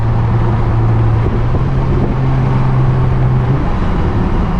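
A Lexus GS350 F Sport with an 8-speed transmission drives with its windows down, engine tone holding steady then stepping in pitch during downshifts over loud wind and road noise.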